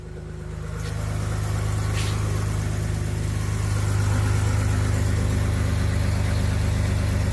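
A Toyota Land Cruiser 80 series sitting in drive, its engine running with a loud, steady low drone and rhythmic mechanical pulsing that swells slightly after the first second, close up and with no talk.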